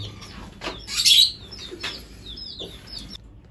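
A lovebird chirps in short, shrill bursts while being held in the hand, with light fluttering of wings in between.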